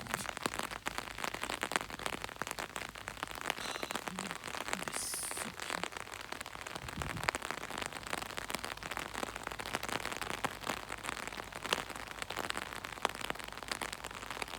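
Rain falling steadily on a park in Scotland, a dense continuous patter of drops hitting the ground and surfaces, with no talking.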